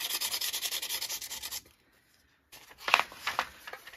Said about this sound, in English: I'm gonna finish sanding this